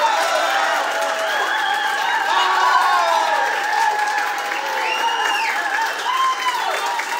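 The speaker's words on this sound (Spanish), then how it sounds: "echen de una vez un aplausito." A studio audience at a talk show claps and cheers loudly, a sustained wall of applause mixed with whoops and shouted voices.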